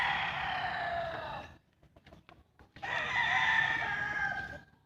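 A rooster crows twice nearby, long rising-and-falling calls separated by a short pause with faint background clucks.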